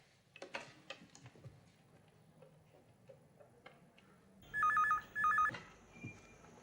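A landline telephone rings twice in quick succession after a number is dialed, each double burst loud and bright above a quiet room with faint ticking.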